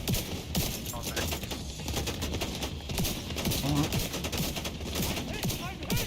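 A deployed turret in The Division 2 fires rapid bursts amid heavy surrounding gunfire, loud and continuous, with voices talking over it.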